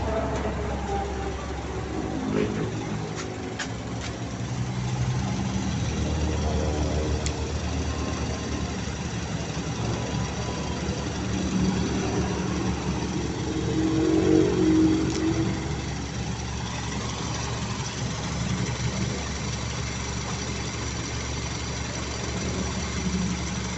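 A car engine idles at low RPM while a bimetal vacuum switch fault is being diagnosed, a steady low rumble throughout with a slight swell midway and someone talking over it.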